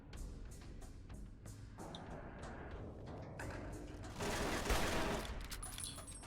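Turret gunfire in the video game Fallout: New Vegas, heard as a quiet, rapid string of evenly spaced shots that fades out midway, followed by a brief louder swell of noise near the end.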